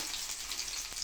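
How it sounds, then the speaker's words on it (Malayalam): Shallots sautéing in hot oil after mustard seeds have spluttered, giving a steady, bright sizzle that fills the pan evenly with faint crackles. "കടുക് പൊട്ടിയിട്ടുണ്ട്, ഒപ്പം തന്നെ ഈ ചെറിയുള്ളി ഒന്ന്"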